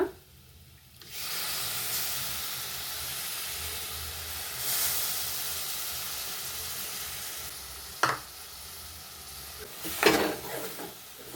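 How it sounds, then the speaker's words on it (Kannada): Bitter gourd gravy frying with tamarind and chili powder, a soft start then a steady close sizzle and hiss, broken by a few sharp clinks and scrapes of a utensil against the pan. "ಹುಣಸೆಹಣ್ಣು ಮತ್ತು ಖಾರದ ಪುಡಿ ಎರಡರ ಜೊತೆ ಫ್ರೈ ಮಾಡ್ಕೊಳ್ಳಿ"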